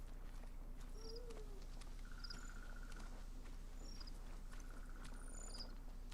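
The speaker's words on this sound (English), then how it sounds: "That's a cricket." Cricket chirping in the video game Ghost of Tsushima, a steady high pulsing trill with short bursts repeating across the clip over a soft outdoor ambience, with faint bird-like calls mixed in.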